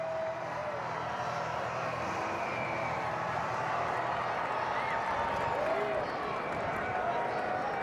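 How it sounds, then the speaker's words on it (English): Crowd at a Brewers vs Royals baseball game in Milwaukee, a steady wash of cheering and applause with scattered whistles, sustained and fairly distant throughout. "It's a good crowd here"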